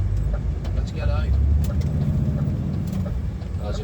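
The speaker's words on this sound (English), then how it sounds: "There's a car just coming down now" A car approaching on a wet rural road between Abbeytown and Carlisle in Cumbria during heavy rain, heard from inside a moving truck cab; steady engine and road rumble with rain hiss, the passing vehicle blending into the drone.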